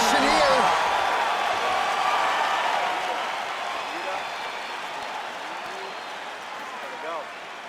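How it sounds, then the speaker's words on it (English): A virtual arena crowd in a UFC video game on PS5 roars and applauds after a middleweight round between Kelvin Gastelum and Anderson Silva, loud at first and slowly fading, with a commentator's voice over it. "So the crowd voicing its appreciation after that round."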